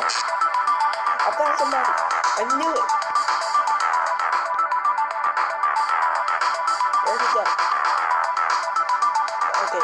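A phone ringtone chirps repeatedly in a Roblox hide-as-objects game, a bright insistent trill looping throughout while players talk over it.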